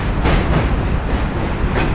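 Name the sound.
New York subway M train passing on bridge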